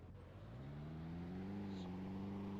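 A car engine in a video game revs steadily and climbs in pitch as it accelerates, with a shift at roughly 3,000 RPM, sounding close and continuous throughout.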